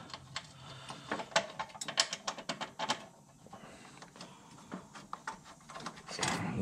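Ratchet running down 10mm bolts on a Mazda 3 left-side engine mount, rapid close clicking bursts in uneven runs with a short pause, then more clicks and a clunk.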